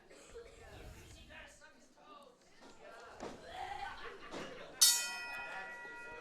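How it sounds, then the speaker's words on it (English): Wrestling ring bell at an all-star wrestling show strikes once with a sharp, bright clang that rings out and decays, following a stretch of commentator talk and crowd noise. "The bell is rung."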